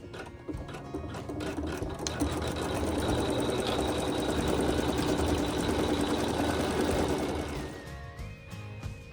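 An embroidery sewing machine stitching satin stitches runs in a dense, continuous mechanical whir that swells to full speed and holds steady, then winds down near the end with a few lighter clicks.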